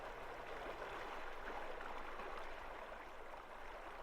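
River water flowing steadily past, a soft, even broadband rush with no pauses, constant and moderately faint like a stream heard from a cabin nearby.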